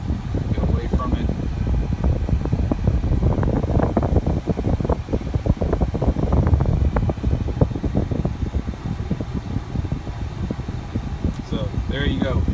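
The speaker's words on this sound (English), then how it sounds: "AC blows absolutely perfect" A car's air conditioning blows ice-cold air on an 85 to 90 degree day, a steady close fan rush with buffeting wind noise running throughout.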